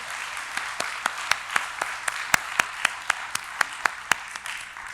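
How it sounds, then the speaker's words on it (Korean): A church congregation at a Sunday service applauds in a broad, steady wash of hand claps, with a few sharper claps standing out at a regular beat, moderately loud and without talk. "우리 다시 한번 영광의 박수 올려드리겠습니다"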